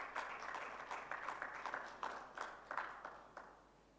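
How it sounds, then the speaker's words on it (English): Sparse, fairly quiet clapping from a small audience at a microfinance technology summit in Kigali as a speaker is welcomed on stage. Individual hand claps stand out in a loose, uneven rhythm that thins toward the end. "Ladies and gentlemen, may we please clap for him."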